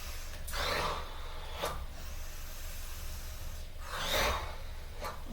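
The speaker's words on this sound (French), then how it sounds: "Et expire par la bouche." Slow breaths during a yoga session: two audible exhalations through the mouth, soft airy rushes a few seconds apart over a quiet room hiss.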